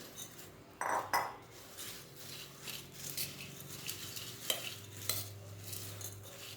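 A utensil scrapes and clinks against a pot while mixing Gopalkala, in a few quiet bursts, with soft stirring and faint sizzling between them.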